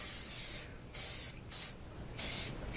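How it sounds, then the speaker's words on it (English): Spray bottle misting product onto curly wavy hair in four distinct hissing bursts of uneven length separated by short pauses, close and fairly quiet. "So just spray all over."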